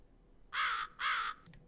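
Two loud harsh caws from a crow in the video game The Cat Lady, close and evenly spaced, with a faint third note trailing after them.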